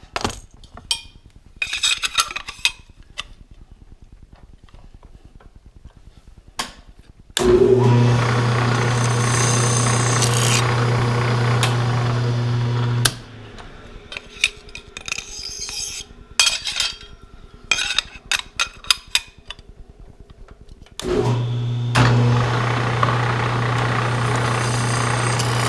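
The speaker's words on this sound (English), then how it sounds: "So let's drill the rest of them." A power drill whines loudly in two long bursts while drilling holes in plywood, separated by clattering and handling noises of wood and tools nearby.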